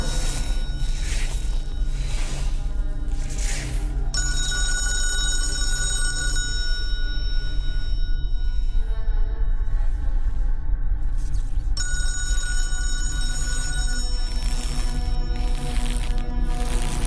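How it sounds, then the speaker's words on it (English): An old-fashioned telephone bell rings loudly in repeated bursts with pauses between them, inside a club, over a steady low background hum. "Somebody answer the phone."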